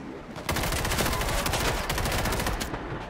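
Rapid, dense bursts of gunfire crackle continuously at close range in a World War Z PvP match, a near-unbroken barrage of pistol shots with no pauses.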